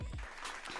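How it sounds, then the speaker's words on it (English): Applause from a podcast audience, a steady wash of clapping for a short moment with a voice briefly audible at the start. "let me give her some applause"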